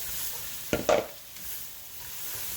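Onions cooking in a gumbo roux give a soft, steady sizzle, interrupted near the middle by a couple of quick spoon knocks and scrapes against the pot.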